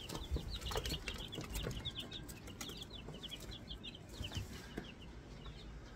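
Young replacement chicks in a brooder give rapid, high, overlapping peeps, a busy chorus of faint chirps over low rustling and shuffling.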